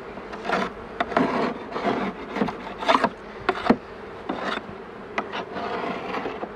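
A stainless steel hive tool scrapes winter propolis off a wooden beehive in a series of short, rasping strokes, with bees buzzing around it. Nearby and moderately loud, with no voices.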